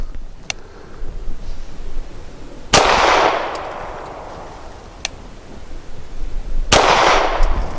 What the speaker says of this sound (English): Much softer shooting.